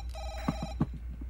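Telephone ringing in the Five Nights Jorge's video game, a short electronic ring tone heard once over a low background hum, close and fairly faint.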